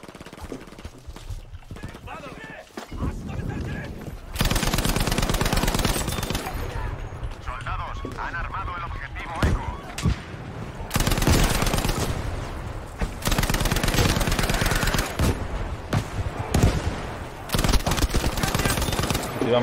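Bursts of rapid automatic gunfire and scattered single shots crack through a Battlefield V match in Outpost mode, some close and loud, others distant, while a player talks over the combat.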